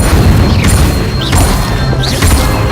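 Incendio fire spell cast in the video game Hogwarts Legacy, a loud continuous roaring whoosh of flame with booming impacts and faint rising whistles over a dense, steady low rumble.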